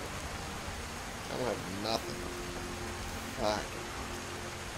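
Steady soft hiss of rain falling in the Skyrim video game at night, a continuous wash of noise beneath a man's brief spoken exclamations.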